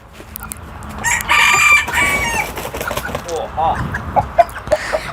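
A rooster crows loudly nearby, followed by clucking and short chicken calls, with people talking in the background.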